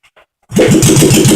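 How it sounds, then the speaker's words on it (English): A rebuilt Honda SL350 motorcycle engine, choke applied and kick-started, catches after a couple of faint clicks and bursts into a loud, steady, close-up rumble that keeps running. "I'm going to give it a kick here."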